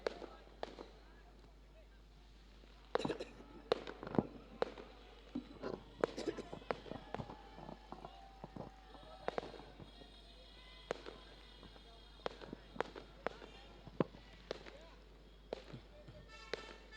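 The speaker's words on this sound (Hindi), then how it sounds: "ये आतिशबाजी जिस तरह से चल रही है" Fireworks go off at a cricket match, rapid irregular pops and crackles scattered densely throughout, moderately loud over steady crowd and ground ambience.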